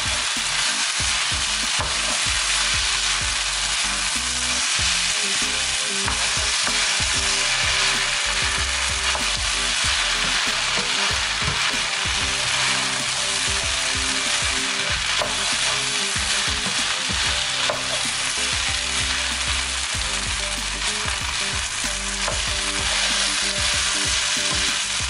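Vegetable rice fries and is stirred in a pan, a loud continuous close sizzle with dense scraping and rustling from the spoon throughout, no voices.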